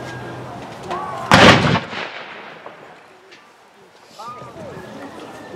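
A single loud cannon boom from a military salute at an outdoor memorial dedication, fired by a Confederate memorial cannon crew, rolls out and decays while people talk and call out around it.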